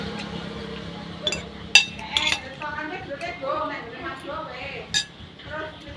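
Dishes and cutlery clink in a home kitchen as food is put onto a plate, a few sharp clinks over a steady background, with people talking nearby throughout.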